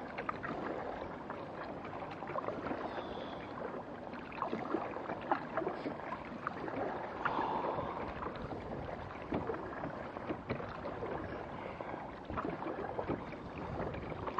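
Kayak paddled across choppy harbour water, with faint slapping and gurgling of small waves against the hull and light wind buffeting, quiet and continuous.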